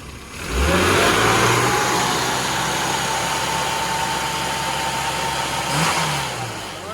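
A car engine on a road-tuning session rises sharply as the throttle snaps open, then holds a loud steady roar before easing and rising briefly again, close and without talk.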